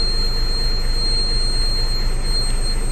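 A Hino FM 260 JD truck diesel engine runs at a steady, loud, close drone with a low rumble, a constant tone on top and no pauses.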